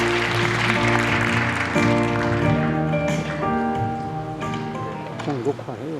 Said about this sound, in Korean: 정도희 의장님 나오실 때 큰 박수로, 따뜻한 박수로 환영해 주시면 감사하겠습니다